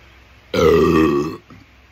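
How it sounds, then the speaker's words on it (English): A single loud, low, drawn-out burp after drinking Coca-Cola, close and lasting under a second against quiet room noise. "Let's get the burp first, shall we?"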